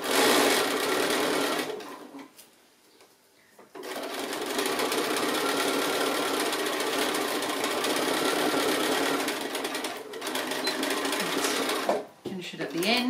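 A sewing machine runs fast, stitching rows along a quilted gift bag made from leftover quilt blocks. The whirring is loud and close, with a short pause early on and brief slowdowns later before it resumes.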